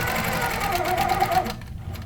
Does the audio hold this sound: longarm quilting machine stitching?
yes